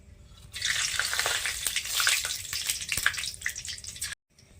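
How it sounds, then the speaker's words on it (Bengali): Whole garam masala, dried chillies and bay leaves sizzle and crackle in hot oil for a Bengali chicken dish, a steady close frying hiss with scattered pops that cuts off abruptly near the end. "দিয়ে দেবো গোটা গরম মশলা শুকনো লঙ্কা তেজপাতা"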